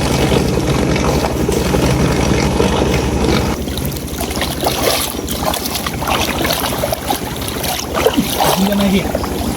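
A trawler boat engine drones steadily on floodwater, a continuous low rumble with water sounds, while people talk nearby throughout.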